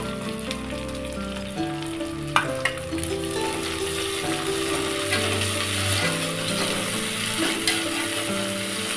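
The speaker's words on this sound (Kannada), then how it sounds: "ನೋಡಿ ಈಗ ಇದು ಈರುಳ್ಳಿ ಫ್ರೈ ಆಗಿದೆ ಇದಕ್ಕೀಗ ಪುದೀನ ಹಾಕೋತಾ ಇದ್ದೀನಿ" Onions and mint frying in a pan for soya chunks pulao, a steady close sizzle with scraping and clinking as the pan is stirred, a few sharper knocks standing out, no talking.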